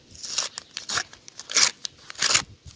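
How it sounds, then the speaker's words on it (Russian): A small paper packet rips open in a handful of quick crinkly tearing bursts, close up and crisp, with short pauses between them. "Ну, порвался пакетик"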